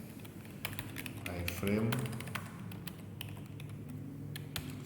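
Typing on a computer keyboard, with rapid clusters of key clicks spread across the clip while someone speaks a short word over them partway through.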